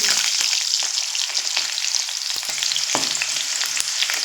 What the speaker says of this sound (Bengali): দেখুন আলু আমি তেলের মধ্যে দিয়ে দিলাম